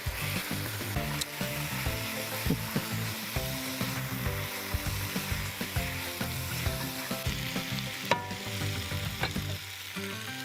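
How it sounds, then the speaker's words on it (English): Food fries in a hot pan while being stirred, a dense continuous sizzle with irregular spatula scrapes and knocks, close and steady throughout with no voices. "You're just going to fry that off no more than about a minute"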